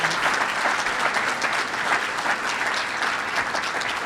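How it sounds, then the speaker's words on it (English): A room full of guests applauds the six award winners at a chamber of commerce community awards event, with dense, steady clapping that holds at full strength throughout. "could we have another big round of applause for the 6 award winners that are in this room?"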